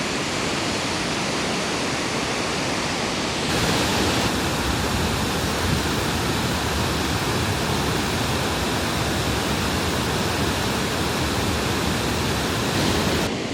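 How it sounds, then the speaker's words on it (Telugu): A waterfall in Munnar, Kerala roars steadily, a loud, broad, unbroken rush of falling water that fills the whole scene with no other sounds. "సో అయిపోయింది, వాటర్ ఫాల్స్ కూడా చూసేసాం"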